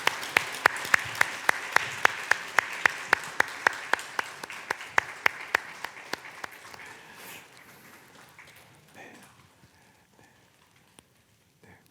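A church congregation in New Jersey claps after an infant baptism at an Easter service, with many hands beating in a fast, steady rhythm that gradually thins and fades away, ending in a few scattered claps.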